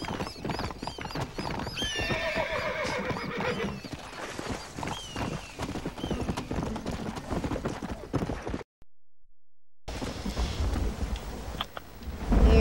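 Horses in a western video game neigh and whinny while hooves clip-clop steadily, with a brief silent gap partway through before the hoofbeats resume.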